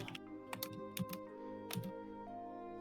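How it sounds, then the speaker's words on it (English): Frantic typing on a computer keyboard, with clusters of sharp, quick key clacks in uneven bursts over a steady background hum, close and fairly clear. "I hope you enjoy the frantic noises of me typing"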